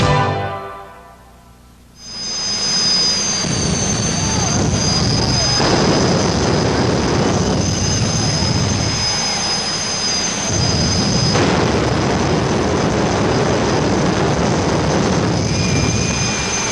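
A powerful jet car engine roars loud and steady after a brief quieter start, its thunderous rumble swelling and easing with a thin high whine on top.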